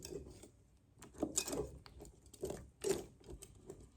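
Whisk or fork agitating softened tamarind pulp soaking in hot water, giving soft irregular clicks, scrapes and sloshing taps close by, with a few louder strokes.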